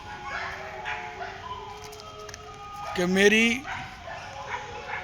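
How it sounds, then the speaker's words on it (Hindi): Dogs barking in the background of a park, distant yips and a louder mid-clip bark mixed with a faint whimper, heard under someone talking close to the microphone. "पीछे से देखो कुत्तों की कितनी तगड़ी आवाज़ आ रही है"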